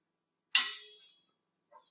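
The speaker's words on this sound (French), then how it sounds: "Une drôle de sonnerie précède une course de pas dans l'escalier" A single metallic bell-like ding strikes once and rings out with a long, steady, decaying tone over about a second, alone with no talk, heard as a school day begins.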